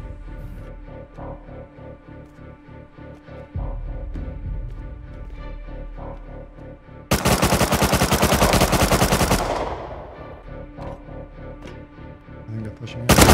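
Gunfire in the survival video game Rust: scattered rapid shots, then a loud sustained burst of automatic fire for a couple of seconds that cuts off, followed by more shots close by.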